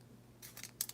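Scissors snip a skull shape out of paper or card in a craft session, a few quiet, close cuts in a short run near the end.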